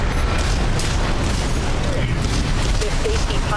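Enemy explosions in the mech combat game Armored Core VI, dense booming blasts and rumbling bursts layered under constant heavy battle noise at a loud, steady level.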